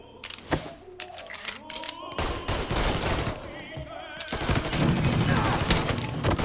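Bursts of gunfire crack in a Mafia III shootout, with sharp single shots early then dense, overlapping rapid fire building into a continuous volley, close and loud, with shouting voices mixed in.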